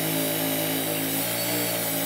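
A power drill runs continuously during a prop build, its steady motor whine holding a constant pitch throughout, close and alone without talk.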